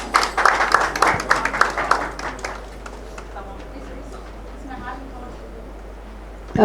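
An audience at an award ceremony for a human rights organisation's anniversary applauds in a burst of clapping that fades over the first few seconds, leaving quiet room tone.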